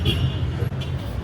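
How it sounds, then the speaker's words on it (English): A Dodge bus rumbles past in busy La Paz street traffic, a low engine drone amid surrounding road noise while a voice talks over it. "Here comes one of those cool Dodge buses."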